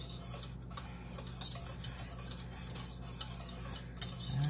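A utensil scrapes around the sides of a pot of homemade chocolate sauce in a series of soft, quiet scrapes and light clicks, faint and close.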